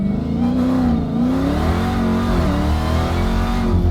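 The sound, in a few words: Dodge Demon 170 car accelerating at half throttle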